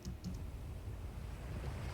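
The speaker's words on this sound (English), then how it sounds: "So I decided to add ocean waves, and I panned it left and right." Ocean waves used as a music production effect, a steady low wash of surf and rolling water panned between left and right, continuous and moderately faint with no voices.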